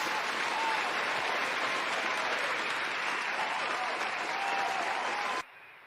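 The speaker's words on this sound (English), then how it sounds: "A little round of applause for that." An audience gives steady, full applause for several seconds, loud and even throughout, then cuts off abruptly near the end, leaving quieter room sound.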